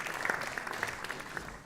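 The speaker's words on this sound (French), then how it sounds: "c'était un applaudissement gêné" Brief, sparse applause from an awards ceremony audience at the FIFA 2016 prize presentation, a thin scattering of claps that fades out within a couple of seconds.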